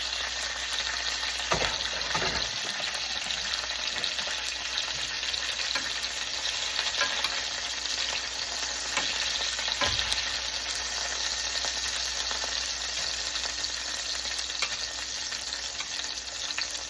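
Steaks fry in a pan with a constant bright sizzle and crackle, occasional soft knocks as the meat is moved, and no voices.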